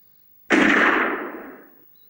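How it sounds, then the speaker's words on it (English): A single loud gunshot burst from the Secret Agent Alisha third-person shooter mobile game, sharp at onset and then tailing off over about a second, with no other sound around it. "Press the fire button for shooting enemies."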